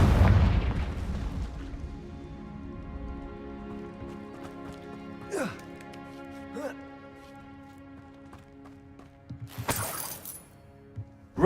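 A Confringo spell explosion in a video game opens with a loud, deep burst that decays into ringing, sparkling debris. A sharp crash comes near the end, with brief voices in between.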